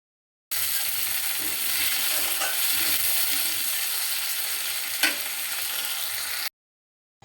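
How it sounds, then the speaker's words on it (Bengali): Fish curry ingredients with salt and green chilies being mixed in a pan of frying onions: a continuous dense sizzle with soft stirring scrapes and one brief sharper clink near the end, no talking. "এখন সুন্দর করে সবগুলো উপকরণ ভালোভাবে মিশিয়ে নেব।"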